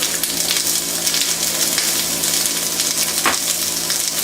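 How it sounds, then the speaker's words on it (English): Onions sweat in a pan for a curry crab soup with a steady, even sizzle and hiss close by, and one brief clink near the end. No one speaks. "Onions in. Now I'm just going to sweat these down."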